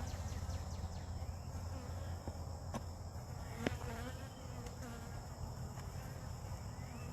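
Honey bees hum and buzz steadily around an open hive during an inspection, a dense continuous drone close by with occasional brief clicks and knocks over it.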